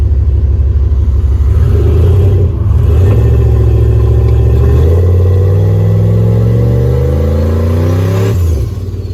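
Turbocharged LS V8 in a sleeper Caravan revving through a new exhaust with no heat shield, a loud deep rumble that climbs in pitch in repeated rising sweeps before dropping back near the end.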